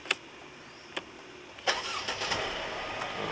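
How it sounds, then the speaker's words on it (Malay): A Mercedes-Benz E250 Avantgarde started with its push button: a few clicks, then the engine cranks and catches into a settled idle, close and clear. "So dia push start button"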